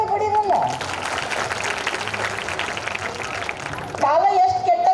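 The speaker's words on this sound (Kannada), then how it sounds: "ಒಂದು ಚಪ್ಪಾಳೆ ಬಡಿರಲ್ಲ" An audience at a village fair event claps in steady, dense applause for several seconds, loud and close, with a voice briefly heard before and after.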